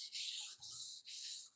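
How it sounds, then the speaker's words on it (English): Sandpaper of 220 grit rubs over primer in a cross pattern, a steady close hiss of back-and-forth strokes with brief pauses as the direction changes. "with the 220 grit, just going to continue with this cross pattern,"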